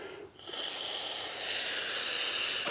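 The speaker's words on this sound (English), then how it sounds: "I'm going to hook this tube up to this and blow in it and make sure that there's no obstructions" Breath blown through a tube into the carburetor fuel line of an Earthquake chipper shredder makes a steady, close airy hiss that begins after a short pause and holds for over two seconds.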